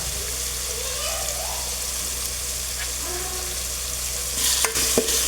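Onions fry in an oil and water mix with a loud, steady sizzle and stirring, and chopped green chillies drop in near the end with a few sharp clatters and a brighter hiss.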